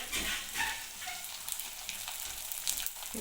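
Sandge, dried lentil dumplings, frying in hot oil: a soft, fairly quiet sizzle with bubbling crackle and a few light clicks, steady throughout.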